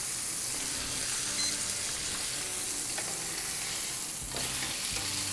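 Steak from a supermarket sizzles steadily in a hot pan for several seconds, a dense close hiss and crackle with occasional stirring or turning noises and no talking.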